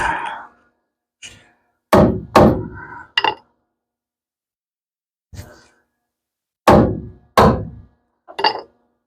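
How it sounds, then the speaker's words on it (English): A hammer strikes repeatedly, with about nine sharp, close knocks in irregular clusters and quiet gaps between them, during work on a sealed boat wheelhouse. No one speaks. "Hammer."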